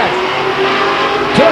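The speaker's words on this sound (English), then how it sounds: "The 40 car Ray Davis crashes into the front of the 82 car." Stock cars roar around Stockton 99 Speedway during a spin and crash, with steady, loud engine noise and a brief surge near the end. A commentator talks over the racing.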